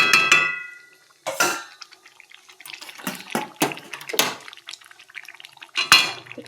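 Cooked food tipped out of a kadai (wok) before frying rice, with several clattering scrapes and clinks of pan and utensil spread over a few seconds, fairly close and free of talk.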